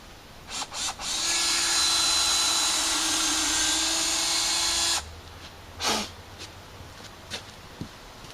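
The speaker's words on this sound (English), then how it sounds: "Now let's drill that first." A power drill bores into wood for about four seconds in one steady, loud whine, with brief clicks of handling before and after it, up close in a workshop.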